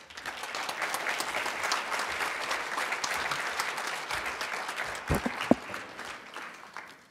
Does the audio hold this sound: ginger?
no